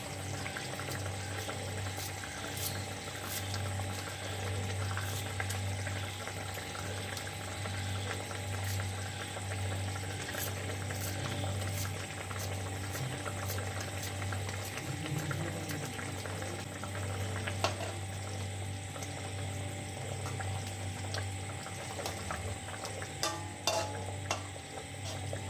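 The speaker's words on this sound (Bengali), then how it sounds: "দেখছেন ঝোলটা ভালো মতো ফুটে গেছে" Fish curry gravy of fried Bhutnath fish with slit green chillies bubbles at a steady rolling boil in a pan, a continuous close, even simmer with no talking.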